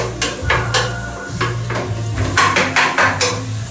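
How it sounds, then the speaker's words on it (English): Onions and garlic being stirred in a pot for chicken casserole, with repeated scraping and knocking of a utensil against the metal over a low background hum, close and fairly loud. "gonna stir around the onions and the garlic"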